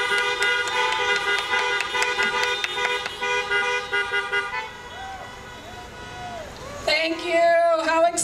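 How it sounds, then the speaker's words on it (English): Many car horns honk together at an outdoor drive-in high school graduation ceremony, a dense, sustained chorus of overlapping toots, followed by cheering voices and whooping. "So honk if you're happy to be a 2020 graduate."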